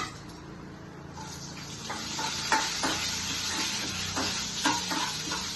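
Green chillies sizzle in hot oil in a pan, stirred with a spoon that scrapes and clicks in irregular bursts over a steady frying hiss, close by with no talk.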